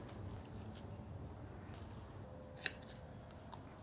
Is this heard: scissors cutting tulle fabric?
yes